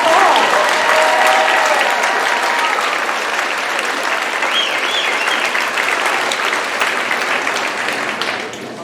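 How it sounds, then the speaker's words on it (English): A room full of people applauding steadily at a graduation ceremony, loud and sustained, the clapping thinning slightly near the end. "give her another round of applause"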